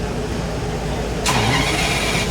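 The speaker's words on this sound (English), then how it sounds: "Time to start an engine." A V12 car engine cranks and catches at a 2016 Quail classic car show, a low background murmur giving way to a sudden louder burst as the engine fires and settles into a running idle.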